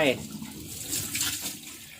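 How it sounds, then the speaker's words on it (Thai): Tap water pours into the drum of a washing machine, a broad steady rush of running water close by, with someone talking over it. "ให้เราเปิดน้ำนะครับ ลงไป"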